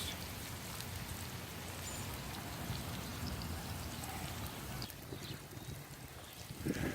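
Hard wind blowing outdoors during cast iron cooking, a steady, loud broadband roar buffeting close over the whole stretch, with no talk.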